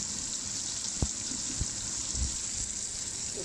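Potatoes frying in soft tomato gravy in a pan give a steady, even hiss and sizzle, with a few small soft knocks and bubbling pops close by.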